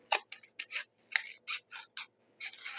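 Scissors snipping through a paper template for a mini coffee cup treat holder, a series of about ten short crisp cuts in an irregular rhythm, close and fairly quiet with no talk.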